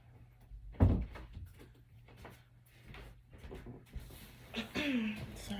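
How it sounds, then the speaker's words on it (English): A dog knocks on a door, giving one sharp thump followed by fainter bumps and rustling, with someone speaking softly nearby. "my dog was knocking on the door"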